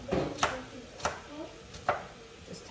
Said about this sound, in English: Maybe I'll just use these ends and our lovely chef knife, cut some thin slices.